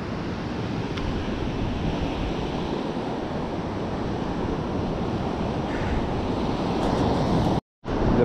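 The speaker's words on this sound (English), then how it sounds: "You can hear the ocean." Continuous rumbling wash of ocean surf mixed with wind buffeting the microphone, steady and fairly loud, with a brief dropout near the end.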